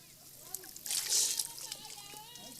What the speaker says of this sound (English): It's a warm water spring.